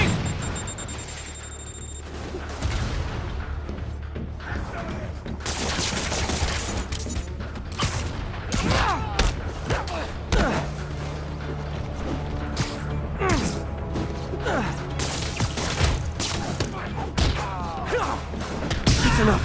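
Rockets firing and exploding in Marvel's Spider-Man on PS5: a dense barrage of loud booms, crashes and rapid gunfire-like blasts that continues almost without a break.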